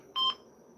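A phone gives one short two-tone dialing or notification beep, clear and close, against a quiet room background.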